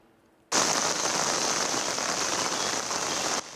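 Rain falls steadily in Valdobbiadene in the Marca trevigiana, starting abruptly as a loud, dense, even hiss that holds without a break before easing slightly at the end.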